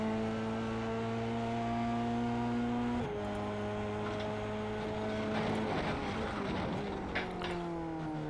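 An F3 race car in a racing video game circuit at Twin Ring Motegi holds a steady high-pitched engine drone, then the pitch drops sharply as it downshifts for a hairpin and climbs again in a second gear change.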